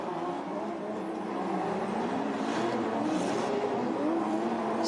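Formula Drift podium finishers' race cars doing celebratory donuts at night, a continuous engine drone with sustained tire noise, held at a steady level and heard from a distance without talk.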